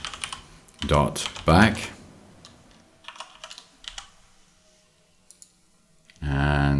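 Keys clatter on a computer keyboard while someone types code during web app building, in short bursts of clicks alongside brief speech, ending in a louder steady stretch.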